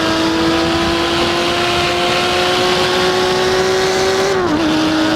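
A Lamborghini Miura P400SV engine in the racing game Assetto Corsa holds a high, steady whine at full throttle, loud and continuous, then dips briefly as it shifts gear near the end.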